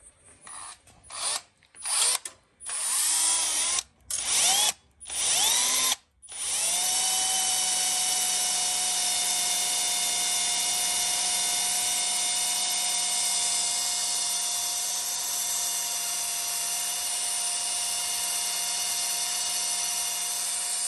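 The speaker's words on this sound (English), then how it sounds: "How far do you have to drill the hole?" A power drill starts and stops in short bursts, then runs steadily with a sustained high whine for a long stretch, close by.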